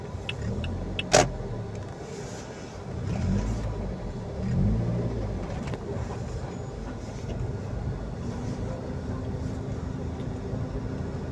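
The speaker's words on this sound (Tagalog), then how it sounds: "Grabe yung traffic sa MUA." Heavy, congested car traffic near an airport terminal 3 building, a steady dense road rumble with engines idling and revving, one brief sharp clank, faint voices now and then.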